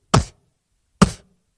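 A voice imitates a beatbox snare with two short, punchy bursts about a second apart, each one a breathy, cracking hit with silence between.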